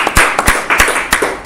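A small group claps hands at a film shoot location gathering, a short burst of sharp, loud, uneven claps close by.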